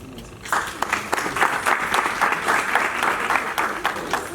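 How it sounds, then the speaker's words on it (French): Audience at the official launch event for Born From School season 7 breaks into applause after a brief quiet start, dense, steady clapping that carries on to the end with a lively, full crowd sound. "Nous allons donc raccompagner le roi et la reine sous vos applaudissements, s'il vous plaît."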